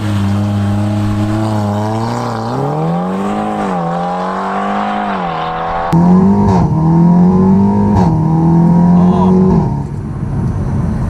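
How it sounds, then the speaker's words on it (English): Exhaust of an Audi TTS MK2 8J, restored after theft and fire damage, droning close and loud as the car drives and accelerates, pitch rising and falling through the revs. "That exhaust actually sounds so good."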